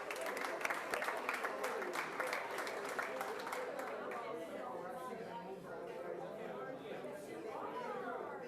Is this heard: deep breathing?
no